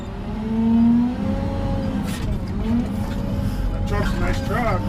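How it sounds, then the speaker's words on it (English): A Western Star log truck is loaded by a Serco loader, its diesel engine droning steadily with rising and falling revs and a brief swell early on, staying close and continuous throughout. "See the log truck over here getting loaded."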